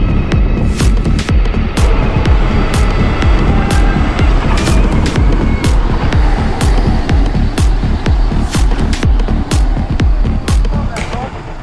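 An electric bike motor runs under throttle during hub-versus-mid-drive testing, a loud steady throbbing hum with rhythmic pulsing beats throughout, close and continuous.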